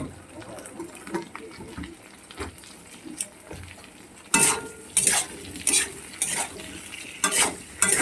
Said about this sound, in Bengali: এবার আলুগুলোকে লাল লাল করে ভেজে নেব ভালো করে ভাজতে হবে